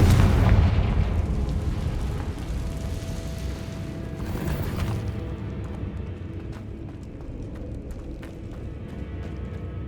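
A Confringo fire spell explodes in Hogwarts Legacy, a heavy booming blast at the start followed by a long rumbling, crackling decay that fades over several seconds.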